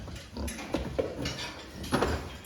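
A pig grunts while standing in a weighing cage at a fattening farm, giving a few short, close grunts spread across a brief moment with some rustling and shuffling around them.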